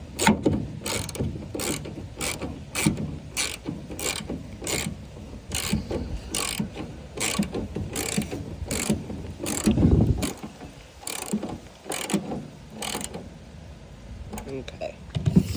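Hand ratchet clicking rapidly in bursts while backing out a taillight screw on a 1999 Ford F250 pickup, close and crisp, with pauses between runs and someone talking over it.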